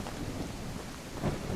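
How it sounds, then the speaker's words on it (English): Thunder from a lightning strike in Outbreak Island rolls as a low, continuous rumble blended with rain, swelling slightly near the end. "that lightning strike"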